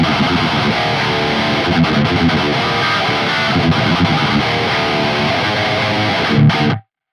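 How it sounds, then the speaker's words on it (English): Heavily distorted electric guitar through an Archetype: Gojira X distortion pedal, a dense, sustained high-gain tone that plays loud and unbroken for nearly seven seconds before cutting off abruptly. "this distortion pedal can take you from the extremes of tight and articulate, high gain, bright rhythm sounds"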